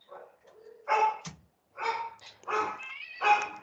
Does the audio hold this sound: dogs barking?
yes